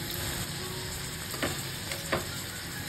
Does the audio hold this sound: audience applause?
no